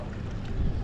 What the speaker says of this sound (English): Oh, watch out! You got a boat coming.